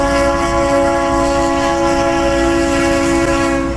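A Norfolk Southern train passing with its horn blaring: a loud, steady multi-tone blast held close and unbroken over a rumbling roll of rail cars, with no talk.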